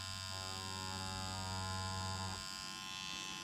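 Powder brow tattoo machine buzzing steadily with a full needle set too deep, a close, harsh electric whine with a low hum that drops away about two-thirds of the way through.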